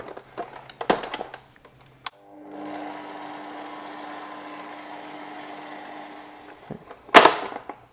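A stand mixer kneads burger bun dough of milk and yeast at low speed, giving a steady, moderate motor hum for several seconds between a few scattered clunks and taps.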